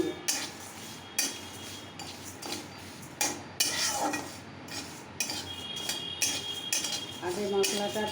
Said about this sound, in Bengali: চারটে শুকনো লঙ্কা, পাঁচফোড়ন, মৌরি এসব দিয়ে আমি ভাজছি